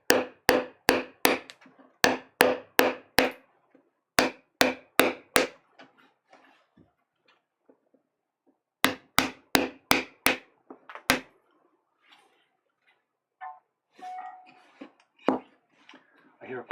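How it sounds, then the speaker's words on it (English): Sharp hammer blows on wood during Japanese woodblock printmaking land in quick bursts of three to five strikes with short pauses between, loud and close, followed by softer scattered tapping and handling noises. "I was up here hammering, but now I need more power."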